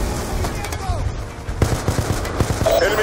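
Gunfire in Call of Duty Black Ops II, with a quick run of sharp, close shots in rapid bursts, loud under in-game radio voices.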